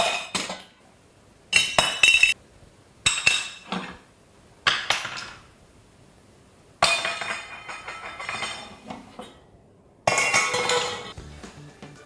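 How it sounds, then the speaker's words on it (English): Dishes and glassware are washed up in a kitchen sink, with sharp clinks and clatters in irregular bursts separated by quieter pauses, close by and with no talking. "I'm going to get Roo to do the washing up because he's got to earn his keep somehow"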